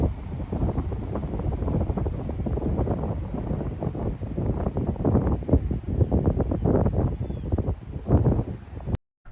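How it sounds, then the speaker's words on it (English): Strong wind buffeting the microphone high on a mountain road in Western North Carolina, a continuous loud rumbling roar with gusty surges and rustle, no talk, cutting off abruptly at the end. "It's windy up here."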